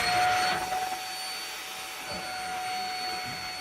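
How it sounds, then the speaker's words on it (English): A vacuum cleaner sucks up broken-loose foam insulation in a mobile home, giving a steady, loud whine with a brief surge at the start. "I'm going to take a vacuum cleaner and suck it up."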